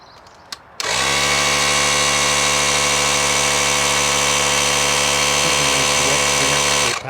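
A Ring RTC1000 digital tyre inflator pumps air into a tyre, starting with a few clicks and then settling into a loud, steady, buzzing motor drone that runs unbroken at close range until it cuts off at the end.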